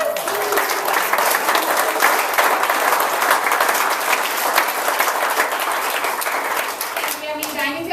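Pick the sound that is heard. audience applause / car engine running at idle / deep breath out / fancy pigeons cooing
audience applause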